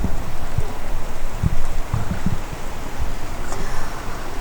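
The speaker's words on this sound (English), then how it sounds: "I love the rain" Steady rain pouring down during a thunderstorm in East Tennessee, a constant hiss with scattered heavier drops and low patters, heard close with no voices.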